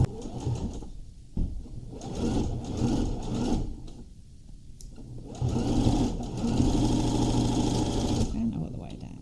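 Sewing machine running in bursts of rapid stitching through fleece while sewing a hat, close and clear, with short pauses between runs and someone talking quietly over it.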